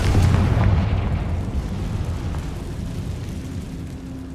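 A Confringo blasting spell explodes in Hogwarts Legacy, a heavy low boom that rumbles and slowly decays over several seconds, loud and close with no voices.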